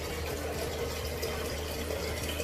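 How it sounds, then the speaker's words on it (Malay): Tap water runs steadily into a container, a soft continuous splashing rush with a low, even hum beneath it and no pauses. "So kita isi je air paip."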